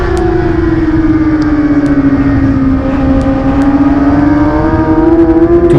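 A Kawasaki 600 sportbike engine roars steadily at high revs racing down a track straight, loud and close, with a sustained whining pitch that dips slightly and climbs again.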